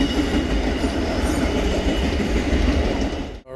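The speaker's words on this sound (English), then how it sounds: "And look at that. Train going by." A train rumbles steadily past a truck stop patio in Ashland, Virginia, with continuous loud rolling wheel noise and clatter, no talk over it, cutting off abruptly at the end.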